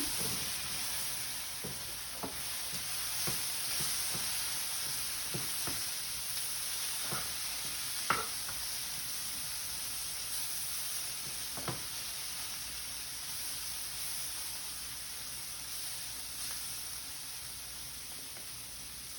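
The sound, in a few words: stirring spices into sizzling vegetables in a pan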